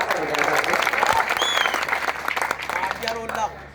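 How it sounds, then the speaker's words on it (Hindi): An audience at a mushaira poetry gathering breaks into loud, dense applause that fades out toward the end, with a few shouts from the crowd mixed in. "एक बार जोरदार तालियां बजाकर आपका विदाई करते हैं"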